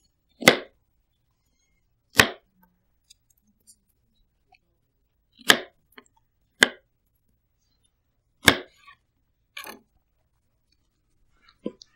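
A knife slices through pitted bush pear on a board in a restaurant kitchen, with six sharp, separate cuts spaced a second or two apart, close and clear against silence.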